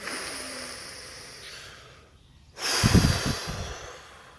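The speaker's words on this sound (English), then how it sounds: "Take a deep breath." A slow, soft exhale fades to near silence, then a sharper, louder breath follows close to the mic, alone and without speech.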